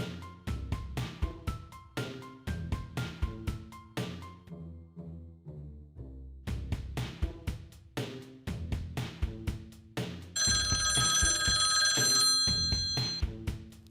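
Telephone ringing for an incoming call, repeated bursts of a bright ringtone pattern with short pauses between them, followed by a sustained higher ring tone near the end.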